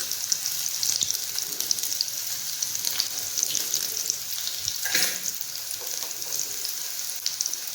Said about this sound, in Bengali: এই যে চিকেন পকোড়াটা হয়ে গেছে আমার, মানে একটু কড়া করে ভাজছি আর কি